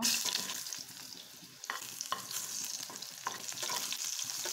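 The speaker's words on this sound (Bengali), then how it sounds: "আমি আলুগুলি ভেজে নেব।" Potatoes frying in oil, a steady crackling sizzle with intermittent stirring scrapes and clicks, close and moderately quiet.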